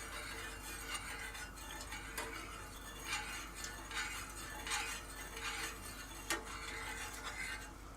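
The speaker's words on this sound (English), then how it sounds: "we'll stir that around a little bit and just get that nice and dissolved in there" Sugar being stirred into boba tea in a pot, a soft continuous scraping swirl with faint clinks of the utensil against the pot, close and steady with no talking.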